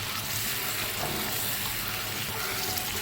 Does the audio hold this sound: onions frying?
yes